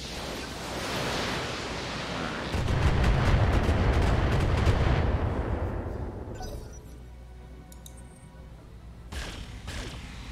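Heavy weapons fire from mechs in the BattleTech video game, a loud rumbling barrage with booming low-end that swells for several seconds and then fades, followed by a few sharper distant impacts.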